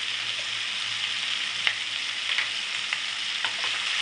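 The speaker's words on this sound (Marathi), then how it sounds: "व्यवस्थित परतून घ्यायचं" Turmeric sizzles and fries steadily in a pan with pumpkin and chillies for a curry, with a few soft scraping stirs over the continuous close crackle.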